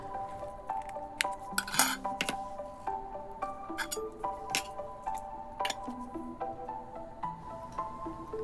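Yellow rice being spooned into a bowl for plating a Middle Eastern dish, with repeated light clinks and taps of utensils against dishes, close and fairly quiet, in an irregular rhythm with no talking.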